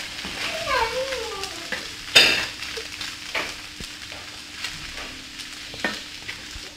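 Spoon stirring and scraping tuna briouat filling with Chinese vermicelli in a pan, soft sizzling and clinks close by, with a voice speaking faintly over it.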